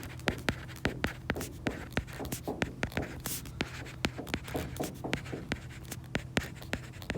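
Chalk or marker writing on a board during a genetics lecture, a rapid series of close tapping and scratching strokes in an irregular rhythm over a faint room hum.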